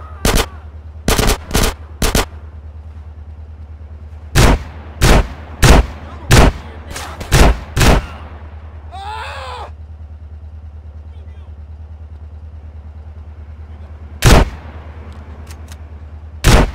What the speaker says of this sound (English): Yeah, it's a gun.